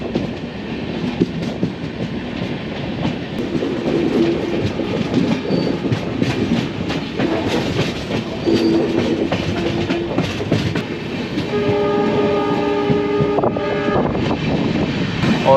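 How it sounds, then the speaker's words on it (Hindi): A diesel passenger train, the Wainganga Express, runs on a single line, heard from on board as a loud continuous rumble with wheel clatter, wind buffeting and brief tonal squeals toward the end. "अभी एक ट्रेन को पास दिया गया और फिर हमारी ट्रेन चल पड़ी है"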